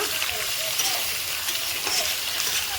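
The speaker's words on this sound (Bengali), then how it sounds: "মই মাংসখিনি ভাজি লৈছোঁ" Goat meat sizzling in a hot pan with fried onions, a steady, close hiss of frying with faint clinks, under quiet talk.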